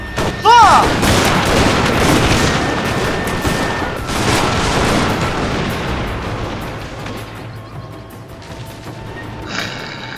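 Massed gunfire volleys crack out in a Total War Shogun 2 battle as troops storm a fortress, a dense, loud barrage of overlapping shots with a shouted voice at the start and a continuous roar of battle noise that thins toward the end.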